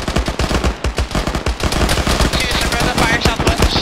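A heavy machine gun fires in a military video game, loud and close, in rapid bursts that run into a dense, sustained stream of shots.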